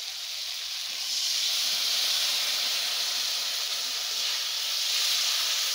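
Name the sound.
spice paste of cumin and chilli sizzling in fried onions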